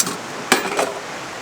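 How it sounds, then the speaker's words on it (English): Metal cooking pot handled at a woodland campsite on the Oregon Coast, two sharp clanks close by, one strong and one softer, with quiet rustling between. "get yourself a pot so you have something to cook in"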